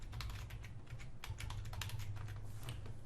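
Steady rapid typing on a computer keyboard, with a student entering free-form questions and answers into an online assignment; continuous close clicking of keys over a low background hum, no voices.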